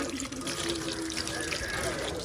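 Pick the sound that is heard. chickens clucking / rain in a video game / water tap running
water tap running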